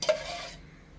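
A pan is set down on a kitchen stove before ghee goes in for wheat rava halwa: one close metallic clunk, followed by a short scraping hiss that fades within half a second, with no talking.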